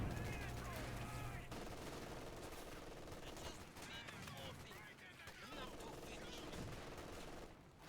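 An MG42 machine gun team firing incendiary rounds in Company of Heroes 2, heard as a dense, faint wash of battle with overlapping bursts of automatic fire and distant explosions throughout.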